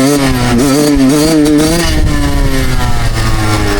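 Dirt bike engine held at high revs during a wheelie, a loud, close, continuous droning whine that wavers in pitch and then drops slightly as the throttle eases.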